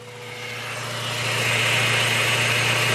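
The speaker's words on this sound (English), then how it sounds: "Now the engine is running." A 2000 Honda Civic Si engine runs steadily at idle, recorded close to the transmission, with a constant low hum that grows slightly louder and fuller over the few seconds.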